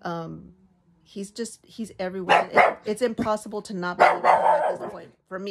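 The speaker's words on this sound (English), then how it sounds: "sorry about the barking" A dog barks repeatedly in sharp bursts, fairly close, while a person talks over it.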